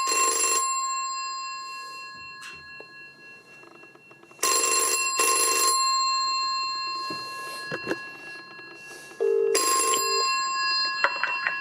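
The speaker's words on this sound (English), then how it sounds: "Now it's ringing slower to the normal cadence," A PMG 401 telephone's bells ring through a PBX at a slower, normal cadence, with several loud metallic bursts separated by pauses, close by and with no talk over them.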